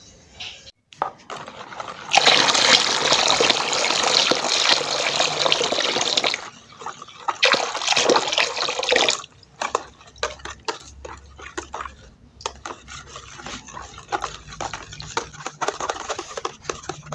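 Water is poured in long, splashing bursts into a batch of homemade fabric softener, followed by patchier trickles and clinks.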